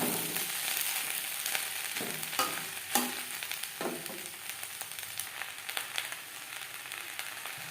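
Onion buds (peyaj koli) sizzle in a pan on a gas flame, a bright continuous crackle with sharp spattering pops and occasional stirring scrapes, close and moderately quiet, without talk.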